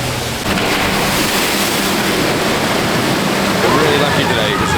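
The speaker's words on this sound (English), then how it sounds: "Next up, we're gonna go on Lego Canoe, a water ride in the rain." Water splashing and rushing on a Lego Canoe boat ride at Legoland Billund in the rain, a loud continuous wash of water noise that swells slightly toward the end, with faint voices underneath.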